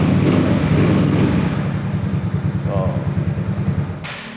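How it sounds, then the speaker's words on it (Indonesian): A custom Yamaha Mio scooter idles with a quiet, mellow exhaust, a low steady pulsing throb that stays close and even, with brief wind noise near the end. "suara idle-nya seperti ini ya"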